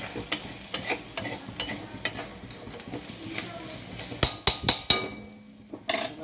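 A spatula stirs spices in a pan while cooking dal with soybean, giving a series of close, sharp scraping clinks over a faint sizzle.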